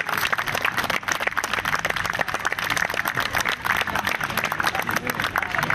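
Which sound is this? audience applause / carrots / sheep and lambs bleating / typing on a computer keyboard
audience applause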